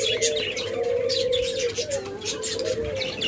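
Pigeons coo repeatedly in a bird farm, a steady stream of soft, throaty calls close by with faint chirps and rustling behind them.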